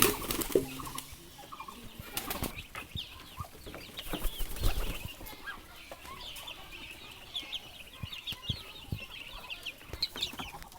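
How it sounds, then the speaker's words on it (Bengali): Several chickens cluck and murmur nearby, with scattered louder calls and some rustling, and no talking. "আমাদের টাইগার মুরগি এবং ফার্মি মুরগি"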